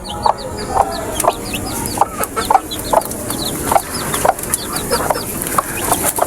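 A mother hen with her chicks, giving repeated close, rhythmic clucks about every half second, with high thin peeping from the chicks scattered throughout.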